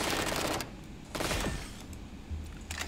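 SMG fire in the video game Valorant sounds as short, dense bursts of rapid shots, moderately loud, with brief pauses and a mechanical rattle between bursts.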